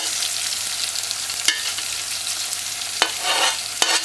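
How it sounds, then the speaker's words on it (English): Thyme, pimento seeds and dry herbs crackle and hiss in a hot pan, broken by a few sharp scraping stirs; close and steady with no talking. "Then add the thyme, the pimento seeds,"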